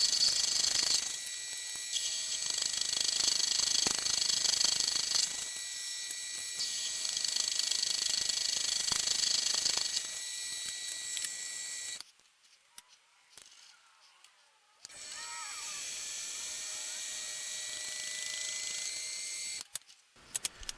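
Lathe boring out an epoxy ring blank, making a steady high mechanical whine and hiss that runs for several seconds, stops briefly, then resumes, close by with no talking.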